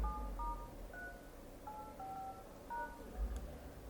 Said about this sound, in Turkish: Galaxy Wonder'a bu tuşlamayı yapıyorum.